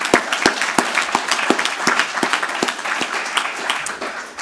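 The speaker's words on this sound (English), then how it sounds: "perhaps calls for a special round of applause if that's not inappropriate" An audience at an annual debate applauds the moderator with dense, sustained clapping at fairly close range, the individual hand claps crackling sharply throughout before tapering slightly at the end.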